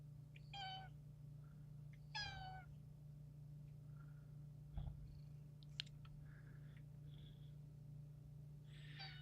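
A house cat meows several times in short, rising calls, with a soft purr and low steady hum underneath, fairly faint and heard alone in a quiet room.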